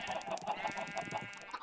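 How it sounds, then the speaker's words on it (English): Minecraft chicken clucks repeat in quick, rhythmic bursts over a bright electronic tone, with no talking. "It's the noise of the chickens."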